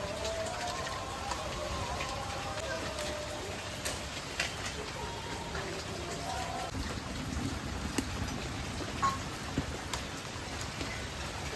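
Steady rain falls outdoors during a downpour at a home cooking spot, a continuous hiss of drops on surfaces with scattered louder patters, with faint voices beneath.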